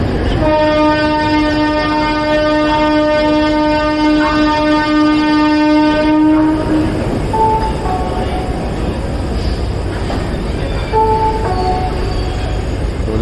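A diesel locomotive at an Indian railway station sounds a long, loud, steady multi-tone horn for about six seconds, then the heavy rumble of the train continues with a few shorter, fainter tones over it.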